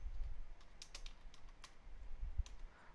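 Quiet, steady typing on a computer keyboard, a run of distinct key clicks at an irregular pace over a low background hum, with no talking.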